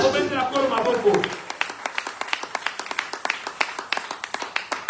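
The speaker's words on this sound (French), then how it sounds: "Acclamez le Seigneur." Church congregation clapping in rhythm, a steady run of sharp, fairly close claps after a sung or chanted voice fades out at the start.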